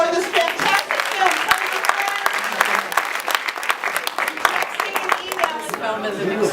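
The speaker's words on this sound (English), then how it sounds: "We have one last round of applause for this fantastic film" An audience at a film screening bursts into loud, dense applause, many hands clapping at once in a sustained wash that holds steady throughout.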